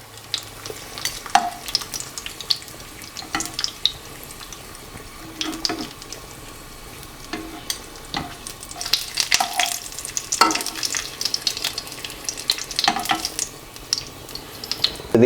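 Pumpkin ricotta gnudi hitting a pan of sage oil, a steady close sizzle with scattered pops, scrapes and clinks of a utensil stirring, continuing without talk.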